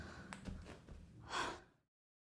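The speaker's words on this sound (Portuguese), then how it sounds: "com o som da minha própria respiração ofegante depois de fazer umas 5 flexões meia boca no chão da sala" Heavy breathing after a few sloppy push-ups on a living room floor: a couple of short breaths followed by one loud, close exhaled gasp that trails off into silence.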